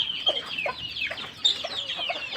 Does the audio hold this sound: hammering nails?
no